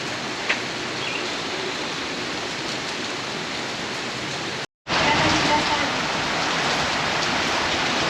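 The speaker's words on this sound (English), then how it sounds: "Rainy train platform, very Japan." Steady rain hisses across an open train platform in Osaka, broad and constant, with a brief dropout midway before the downpour resumes slightly louder.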